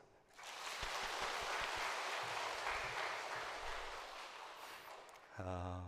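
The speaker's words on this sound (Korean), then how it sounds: "다시 한번 박수를" A church congregation applauds the choir during a Sunday worship service: dense, steady clapping that swells and holds for about five seconds, then fades as a voice comes in.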